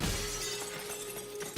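Glass shatters in the Half-Life VR video game when a button is pressed, a loud bright crash with scattering shards that starts at once and decays over under two seconds, heard alone without talk.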